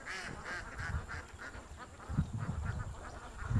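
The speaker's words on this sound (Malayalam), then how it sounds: "താറാവൊക്കെ ഇറങ്ങിയിട്ടുണ്ട് കേട്ടോ." Many ducks quack in a continuous, overlapping chorus at a moderate distance over a faint steady background hum, at Kadambrayar.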